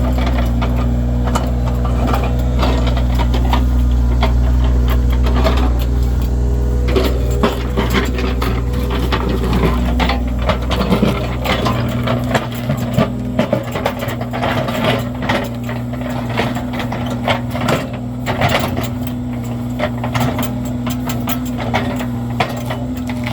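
Excavator working to remove a maple stump while building trails on steep wooded hills, a steady loud diesel engine drone with hydraulic whine, plus intermittent cracks and thumps of wood and soil being torn out.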